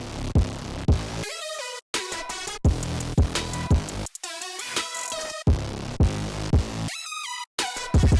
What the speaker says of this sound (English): So yeah, this was a saw wave with distortion on it.